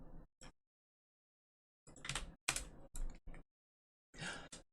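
Keys clacking on a Corne split computer keyboard, in short separate bursts of clicky keystrokes with long silent gaps between them, close and fairly quiet.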